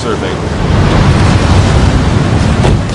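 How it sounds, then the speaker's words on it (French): Steady broadband wash of surf with wind noise, continuous and fairly loud, no distinct breaking crashes. "Petite vague, mer calme."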